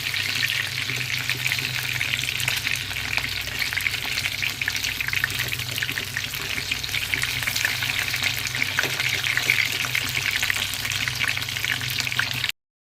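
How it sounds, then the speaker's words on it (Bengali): Chicken pakoras fry in hot oil with a steady, bright sizzle and crackle that holds close and even throughout, with no voices. "চিকেন পকোড়াগুলি সব ভাজা হয়ে গেছে, এখন তুলে নিচ্ছি।"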